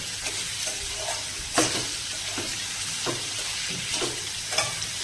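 Steady sizzling of potatoes frying in a pan, broken by several scraping stirs of a spatula at irregular intervals, close by with no talking.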